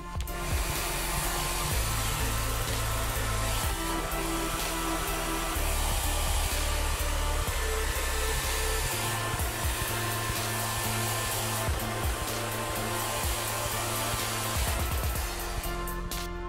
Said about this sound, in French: Donc avec le sèche-cheveux un petit peu vers le haut.